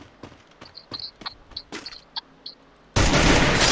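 Several sharp, separate gunshots crack in an uneven rhythm in the mobile battle royale game Garena Free Fire, then a sudden loud sustained blast of noise takes over at the end, with no talking.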